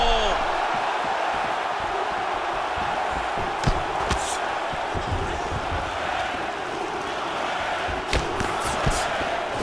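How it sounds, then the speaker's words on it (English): A virtual arena crowd in the UFC 4 video game roars and murmurs continuously, with sharp thuds of strikes and brief swells of reaction, under a constant background hum. "you hear the crowd react every time they come together because they understand the power that these guys are striking with"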